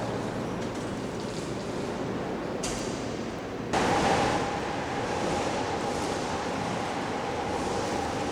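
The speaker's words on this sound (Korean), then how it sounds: "이번에는 파도 생성기가 발생할 수 있는 가장 높은 파도를 만들어 보기로 했다." High waves from a wave generator wash through a test tank in a steady, loud, broadband rush that swells noticeably partway through and then holds.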